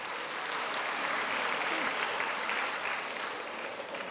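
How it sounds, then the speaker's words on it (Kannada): An audience at a school annual day celebration claps steadily for about four seconds, a dense, even patter of many hands filling the hall with no voices standing out. "ಸ್ವಲ್ಪ ಜನ ಚಪ್ಪಾಳೆ ಹಾಕಿದ್ರು, ಇನ್ನೂ ಜಾಸ್ತಿ ಹಾಕಿದ್ರೆ ಒಳ್ಳೆಯದು."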